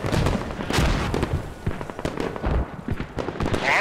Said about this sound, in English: Mortars now being launched on the south on Commander's FOB now.